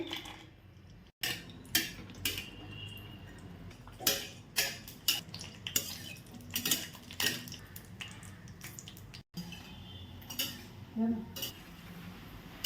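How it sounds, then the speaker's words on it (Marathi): Cashews roasting in ghee in a kadai: irregular metallic clinks and scrapes of a spatula against the pan, close by, with short pauses between stirs. "आता कढाईमध्ये तूप टाकून घेऊ आता आपण काजू भाजून घेऊ"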